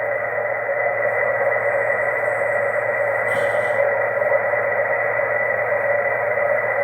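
Steady shortwave band noise from a vertical antenna forms a constant hiss and hum with a brief rise in the middle. It is loud and continuous and nobody speaks.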